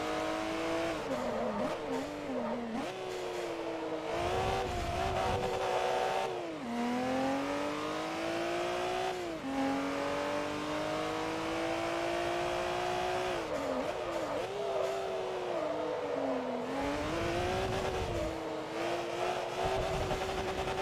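Racing car engines in the video game Forza Motorsport 3 rev and shift through gears continuously, with a rival Mitsubishi passing; loud, steady engine drone rising and falling with each upshift and downshift, no talk.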